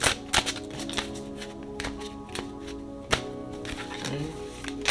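Star Tarot cards being shuffled by hand, a run of crisp riffling taps and flutters with sharp bursts scattered over a low musical background, close and fairly quiet.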